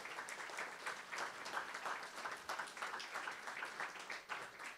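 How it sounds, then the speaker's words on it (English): Audience applause at a care home ribbon cutting ceremony, steady scattered clapping from a modest crowd, heard at a distance and fairly faint throughout. "let's give him a big round of applause because it hasn't been easy"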